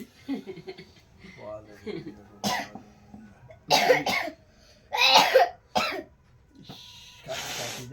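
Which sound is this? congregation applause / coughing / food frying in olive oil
coughing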